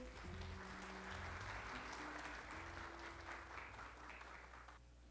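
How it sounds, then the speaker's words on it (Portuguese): Applause from an audience at a lecture on reverse logistics in São Paulo, soft and somewhat distant, a steady wash of clapping with a low hum underneath, fading out at the end. "Uma salva de palmas a todos vocês."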